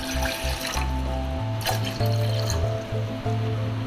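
Water poured into a pan for masala tea, a continuous splashing stream with gurgling interruptions, close and fairly loud, no voices.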